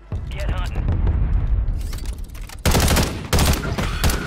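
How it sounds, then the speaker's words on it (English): Rapid bursts of automatic gunfire ring out during a Warzone 3 match, starting muffled and quieter, then turning loud and dense with sharp volleys and booming reports over a busy game soundscape. "they're trying to take shots at me now"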